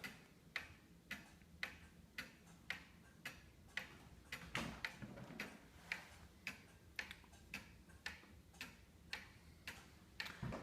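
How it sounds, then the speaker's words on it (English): An antique Black Forest cuckoo and quail clock from around 1890 ticks in a steady, even rhythm of soft, close clicks, continuing on its own without talk or chimes. "this is a Cuckoo and Quail clock, and so it's a much rarer complication than a cuckoo only"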